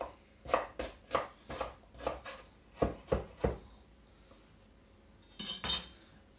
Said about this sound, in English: one onion, roughly chopped